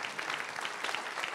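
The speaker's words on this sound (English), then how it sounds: "Can you give the Lord a good hand clap on that?" Church congregation giving a hand clap during a sermon, a continuous broad wash of many hands clapping at moderate level, with no clear talk over it.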